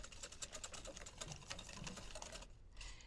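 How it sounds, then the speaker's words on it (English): Sugar is whisked in a bowl for crème caramel, giving a rapid, even, close-up rattle of wire against the bowl, with a pause near the end before it starts again. "Give this a little whisk."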